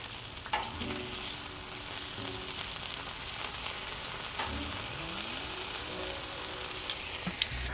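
Bacon fries in a pan with a steady, dense sizzle and crackle throughout, close and even, with a few faint scrapes of turning and no talk.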